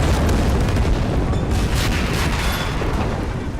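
Continuous heavy artillery barrage in the Men of War Assault Squad 2 war game, dense overlapping booms and blasts rumbling loud throughout without pause.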